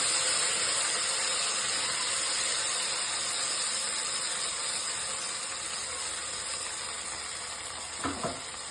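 Mustard seeds sizzle and spit in hot oil in a wok, a steady bright frying hiss that slowly eases, with a brief clatter of stirring near the end.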